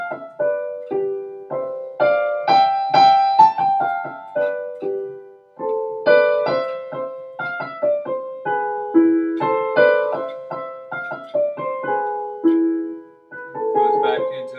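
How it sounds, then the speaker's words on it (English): A new section of Mozart's Turkish March played on piano, a continuous run of quick, clear notes in a lively melodic line with steady rhythm, close and solo. "This week we'll work on a new section of Turkish March."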